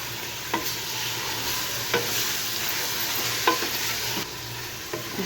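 Beef fries in a pan for a traditional Pakistani shahi gosht with cauliflower, a steady sizzle running throughout while a spoon stirs and scrapes now and then in a few sharp clicks; no voices.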